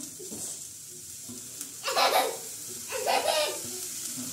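Vegetables drop into a hot pan where turmeric is already cooking, setting off two bursts of loud hissing sizzle that settle into a softer steady fry, with voices in the kitchen.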